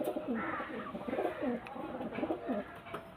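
Soft, repeated cooing of pigeons in a low, throaty rhythm, several calls in a row over a steady background hum, close by.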